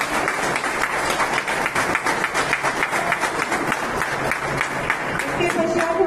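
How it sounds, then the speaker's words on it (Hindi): Audience applause at a retirement ceremony for working dogs, a steady wash of many hands clapping throughout, fairly close and even in level, with faint voices mixed in. "सभी तालियां बजाते हैं।"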